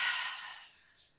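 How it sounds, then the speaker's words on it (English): A single long exhale during a yoga flow, a soft breathy sigh that starts fairly strong and fades out over about a second, close to the microphone. "Breathe in, breathe out."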